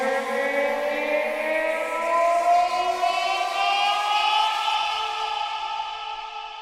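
A single sustained synth note with rich harmonics holds steady, then bends upward in pitch toward the end, loud and clean with no voices.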